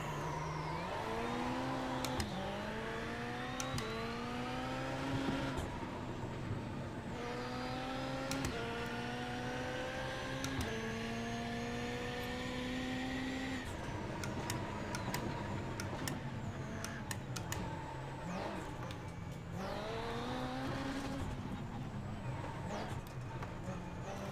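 A rallycross race car at Lucas Oil Raceway at night, its engine revving in rising pitch sweeps through gear changes and downshifts, loud and close from the cabin, with brief speech over it.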